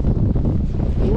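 Strong wind roars and buffets the microphone at a harbour breakwater during shore fishing, a loud continuous low rumble with no clear speech.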